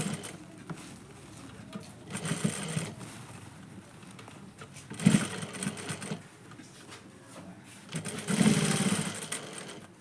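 A sewing machine stitching a baby cap runs in short bursts of rapid mechanical whirring, with a few louder runs separated by quieter pauses as the fabric is handled.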